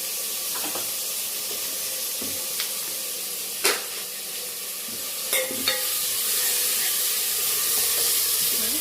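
Tomato frying in a pan of oil for gongura prawn curry, a loud, continuous sizzling hiss with occasional sharp clicks and scrapes of a stirring spoon.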